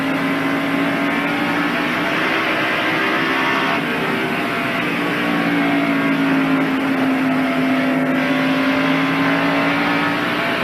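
Dick Trickle's number 8 Snickers Ford stock car at Bristol International Raceway in the 1992 Bud 500, heard from onboard: a loud, steady engine drone that holds its pitch with slight rises and dips for the whole stretch, with no talk.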